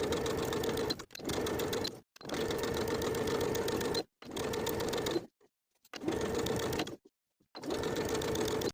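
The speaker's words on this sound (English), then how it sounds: "sew with a 3/8 inch seam allowance. And repeat to attach both sleeves" A sewing machine stitches a sleeve seam on a women's wool jacket, running in several loud, steady bursts of a second or two each, separated by short silent pauses.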